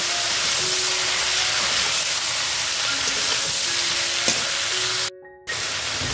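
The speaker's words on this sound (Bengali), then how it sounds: "এবার শাপলাটা দিয়ে দিলাম, দিয়ে ভালো করে ভেজে নেব" Water lily stems frying in a pan for a fish head dish, a constant loud hiss and sizzle with faint tonal hums, broken by a brief near-silent gap before the sizzle returns.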